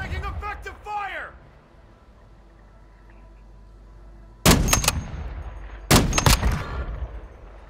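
Gunfire in Call of Duty: Modern Warfare II: two loud, close bursts of rapid shots in the second half, each lasting under a second, after a stretch of low background ambience. Voices are heard briefly at the start.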